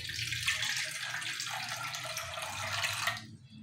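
Running water pours steadily from a tap into a container for pancake batter, a continuous broadband splash close by that cuts off near the end.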